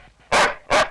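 A dog in a comedy film scene gives two loud, sharp barks close by, each a short burst with a brief gap between, and no talking in between.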